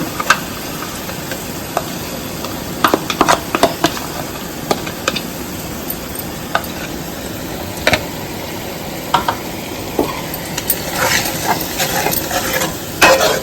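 Wet masala paste with tomatoes frying in a pan gives a constant sizzle broken by frequent sharp scrapes and taps of a spoon against the pan, busier near the end.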